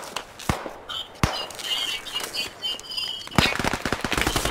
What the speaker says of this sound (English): Wow, that dude sniped me.